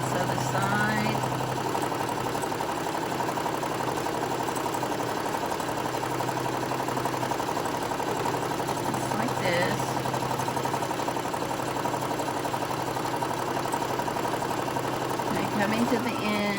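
A sewing machine runs steadily as it stitches the side seam of a Halloween-themed fabric treat tote bag, a continuous mechanical hum that sits beneath a person talking throughout.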